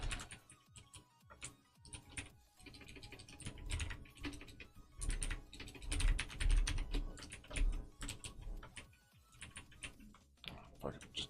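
Rapid typing on a computer keyboard while a chat client is being coded, irregular bursts of quiet key clicks with brief pauses, close but soft, and no voice over it.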